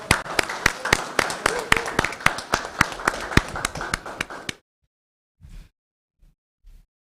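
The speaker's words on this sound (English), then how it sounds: "So let's give our students a round of applause." A small group claps for students at a school board meeting, distinct individual claps in a loose rhythm for about four and a half seconds, then silence with a few faint thumps.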